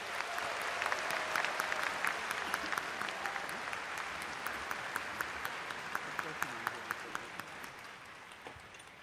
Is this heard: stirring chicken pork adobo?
no